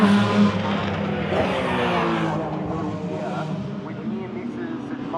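Race cars on a practice session at Bathurst come over Rock Skyline, a continuous engine drone with layered tonal harmonics throughout, fairly close and steady, with a commentator talking over it.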